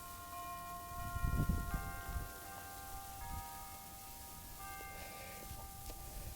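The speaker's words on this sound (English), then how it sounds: "Can y'all hear those church bells, or is it just me?" Distant church bells play a melody of sustained, ringing notes that change pitch every second or so, faint over low background rumble and a brief nearby thump.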